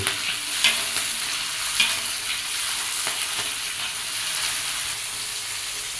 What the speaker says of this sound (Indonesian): Kita aduk sampai lencanya terlihat lagi.